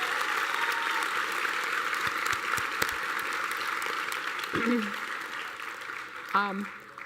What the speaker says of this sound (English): Let's give a round of applause to your families and loved ones and the professors who supported you